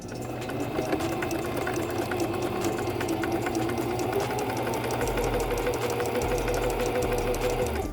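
A sewing machine running a zigzag stitch along a sock seam: a steady, fast mechanical whirring with a rapid repeating needle rhythm, continuous and close for the whole stretch, no talk.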